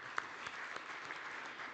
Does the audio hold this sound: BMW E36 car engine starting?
no